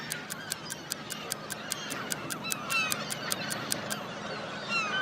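Seagull calls ring out as a quick, evenly spaced series of sharp cries over a murky background wash, with the rhythm loosening and fading near the end.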